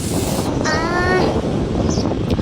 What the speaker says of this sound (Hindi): हवा चल रहा है, सुकून है बहुत।